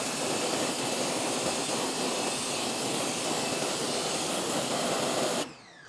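A water spray rinses wheel and tire cleaner off car wheels during winter wheel cleaning: a loud, steady, close hiss lasting about five and a half seconds before cutting off abruptly.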